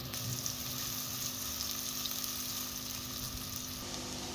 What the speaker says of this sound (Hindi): तो प्याज को लाइट सा ब्राउन करना है